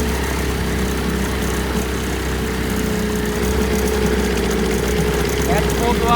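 A 1980 Chrysler Sea King 15 hp outboard motor runs steadily and fairly loud throughout, its droning mid-pitched idle-like hum continuous with slight unevenness, while a person talks over it.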